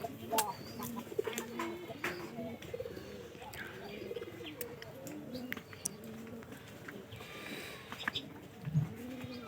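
Giribaj pigeons being let out, giving soft repeated cooing and scattered chirps from nearby birds throughout, with a few louder calls standing out against a steady outdoor background.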